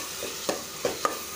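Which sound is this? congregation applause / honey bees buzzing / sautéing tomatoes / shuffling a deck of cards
sautéing tomatoes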